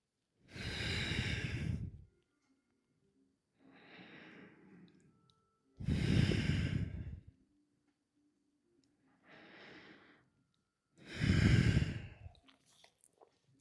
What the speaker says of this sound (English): Breathe into the belly and then feel the ribs expand.